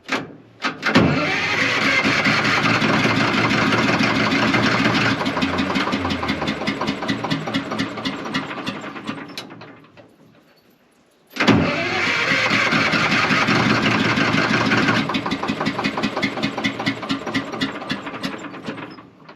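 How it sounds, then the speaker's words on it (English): Detroit 4-71 diesel on a LeTourneau Westinghouse scraper that hadn't run in years, revving loudly with a steady rapid clatter, dropping away near the middle, then surging back up hard. "Do I dare give it any throttle? Yeah, I'll try a little bit, yeah."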